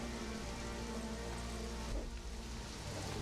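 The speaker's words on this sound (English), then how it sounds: "It always rains when you go into ghost mode, by the way." Steady, dense rain falls in ghost mode in the game Conan Exiles, a constant hiss of drops on surfaces heard alone and fairly faint.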